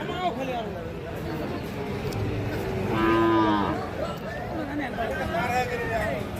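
Sahiwal bull calves moo at a busy cattle market, with one long, loud moo in the middle and other lowing around it, set against crowd chatter and voices.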